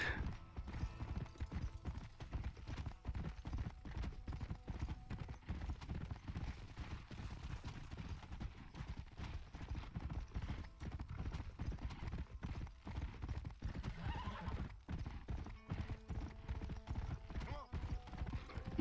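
Horse hooves clip-clop at a steady pace in Red Dead Redemption, with an occasional neigh, while a player talks over the game audio throughout.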